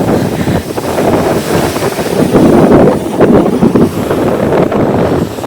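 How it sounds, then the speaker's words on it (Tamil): Strong wind gusts roar steadily across the microphone on a beach along the ECR coast road near Chennai, loud and continuous with surf mixed into the buffeting and no talk. "காற்று சிலு சிலு சிலுன்னு அடிக்குது."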